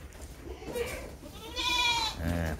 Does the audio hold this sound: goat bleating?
yes